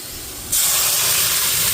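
Lentils tipped into hot oil with fried onion and dried chilli hit the pan with a sudden loud hiss that stays as a strong, steady sizzle.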